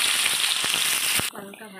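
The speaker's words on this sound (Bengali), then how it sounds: "যে আলুটা কেটে রেখেছিল আলুটাকে ভেজে নিচ্ছে" Cut potatoes frying in oil give a loud, close, hissing sizzle with a couple of sharp crackles, then drop abruptly to a quieter bubbling near the end.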